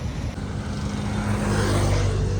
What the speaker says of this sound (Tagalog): Traffic no kaya no sa mga rush hour eh